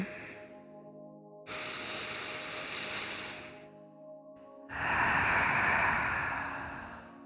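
Slow breathing during a guided relaxation exercise, with two long, close, airy breaths, each separated by a short silence, the second one louder.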